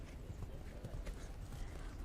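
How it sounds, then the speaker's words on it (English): Horse hooves cantering during a dressage test at a junior eventing championship, a soft rhythmic clip-clop on arena footing with faint crowd ambience, steady throughout. "They have a canter stretch circle."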